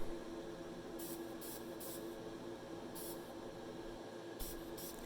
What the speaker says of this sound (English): And the base will get this satin black Krylon paint.